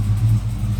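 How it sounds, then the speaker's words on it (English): A 1981 Chevy K20 Stepside pickup idles outside, its engine giving a deep, loud, steady low rumble with a slight lumpy pulse and no voices. "So just show you with it running from the outside."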